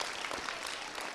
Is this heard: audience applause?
yes